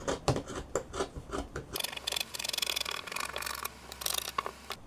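Scissors snip through kaftan fabric in quick, irregular cuts, crisp close-up clicks and rasps, with a faint low hum underneath in the latter half.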